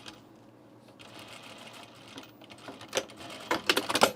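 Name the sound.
sewing machine stitching a blazer seam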